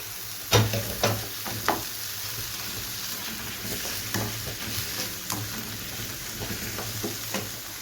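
Onion frying in a pan for spaghetti with white sauce, a steady soft sizzle with occasional sharp pops and crackles, close and fairly quiet, no talking.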